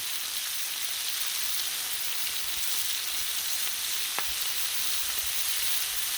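Cheap, very fatty bacon frying on a Blackstone griddle, a steady close sizzle and crackle with a sharp pop or two, continuous and alone with no talking.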